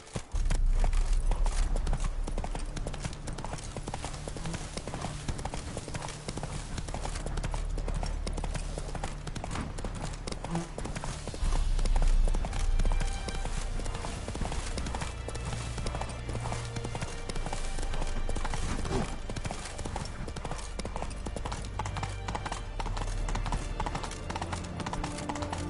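Roach the horse's hooves clip-clop at a steady trot through The Witcher 3, the rhythmic hoofbeats running under game music and occasional speech, with a brief whinny.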